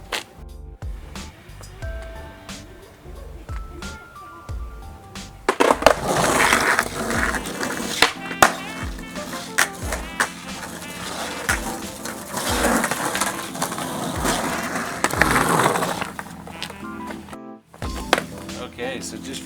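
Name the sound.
skateboard with new wheels gliding on pavement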